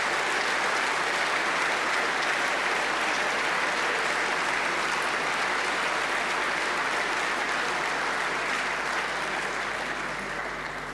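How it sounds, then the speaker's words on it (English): A conference hall audience at a UKIP party conference in Southport breaks into sustained, dense applause, loud and even throughout before tapering slightly at the end. "Let's have a round of applause for Alan."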